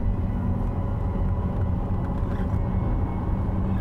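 Car rolling down 8th Street in Sacramento, a constant low road rumble and engine drone filling the cabin, steady and unbroken with no talk.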